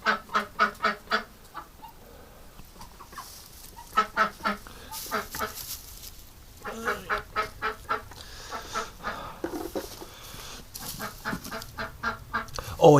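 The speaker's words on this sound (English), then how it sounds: "I hear a hissing duck." Ducks honking in repeated rapid bursts of harsh nasal calls, close and fairly loud, with quieter rasping hisses between the bursts.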